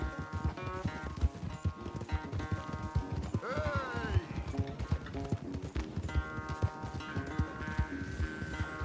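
Horse galloping during a race in the Red Dead Redemption 2 video game, rapid rhythmic hoofbeats running steadily close by, with a brief whinny-like tone in the middle and voices talking over it.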